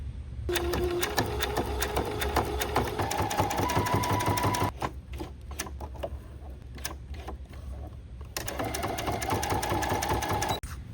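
Close, steady whirring of a sewing machine stitching bias tape onto a needlepoint canvas, with a pause for turning at a corner partway through before the stitching resumes.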